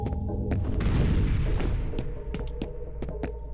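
The god gun firing in the video game FEAR, a heavy booming blast with rumbling low end followed by a string of sharper cracking impacts, loud and close.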